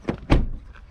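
Door of a damaged 2017 GMC Denali binding against its fender as it is opened, giving a light knock followed by a heavier close thunk.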